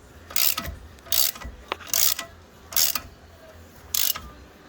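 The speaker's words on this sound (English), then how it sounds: "I just broke those bolts the rest of the way free" Ratchet wrench breaking suspension bolts free on a 1984 C4 Corvette front suspension, five bursts of fast clicking ratcheting spaced about a second apart, close and fairly loud.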